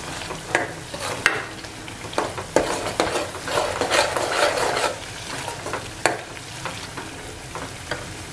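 Onion-tomato gravy is stirred into a mackerel curry in a pan, with repeated scraping strokes of a spoon and a low, steady sizzle in between. No one speaks.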